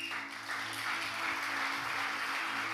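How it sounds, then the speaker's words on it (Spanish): Congregation applause in a church service forms a continuous dense patter of many hands, moderately distant, over a low steady electrical hum. "Y yo creo que todos ofrecemos un aplauso al Señor."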